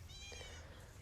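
A faint cat meow outdoors in a storm-damaged garden, one short soft call over a low background rumble.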